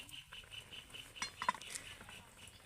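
Metal utensils clink lightly against a plate while syrup-soaked chhana jalebi are lifted out and served, giving a few faint, close taps and chinks.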